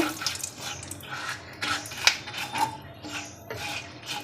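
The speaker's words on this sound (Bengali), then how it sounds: "এখন একটু নাড়িয়ে নেব।" A metal utensil stirs and scrapes in a pot where whole spices (dried chillies, cinnamon, peppercorns, cardamom, bay leaves) fry for Bengali-style mutton curry, close clinks and rasping scrapes in an uneven rhythm.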